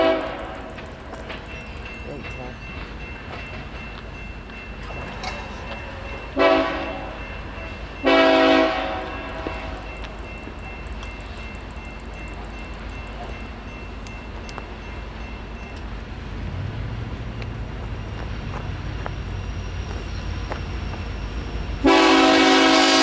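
Eastbound freight manifest train passing at Fostoria, Ohio, its wheels and cars rumbling steadily under several loud horn blasts, one near the start, two around the middle and a final blast at the end.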